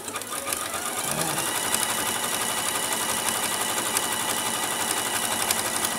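An Elna 780 sewing machine stitches a wide zigzag, a close, steady motor hum with a fast, even needle clatter running continuously after a brief start.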